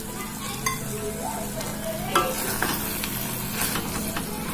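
Curry leaves stirred into a frying drumstick and egg dish, with a steady sizzle and scraping of a spoon against the pan, close and continuous.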